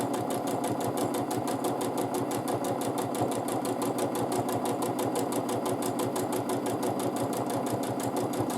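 A sewing machine doing free-motion quilting with a ruler foot, stitching back-and-forth lines at quarter-inch spacing; a steady, fast needle rhythm runs continuously at an even, close level with no pauses.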